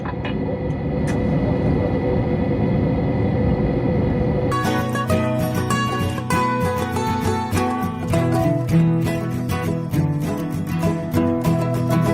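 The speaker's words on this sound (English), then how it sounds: "Attendants, prepare for takeoff." A passenger jet's engines roar through a steady, loud broadband rumble during takeoff, and after a few seconds music joins and plays over the engine noise.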